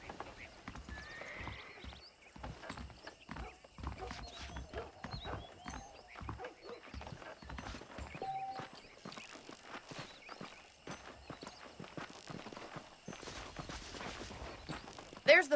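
Horse hooves clip-clop at a steady walking rhythm in the Red Dead Redemption western game, close and continuous over about fifteen seconds, with a brief whinny and other game sounds underneath.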